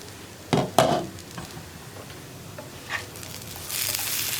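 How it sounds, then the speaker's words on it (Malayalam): Potato thoran in a pan gets stirred with a couple of sharp spatula knocks and scrapes near the start, a soft sizzle continuing underneath and a brighter hiss building toward the end. "നമുക്കൊന്ന് തുറന്നിട്ട് ഇളക്കി കൊടുക്കാം"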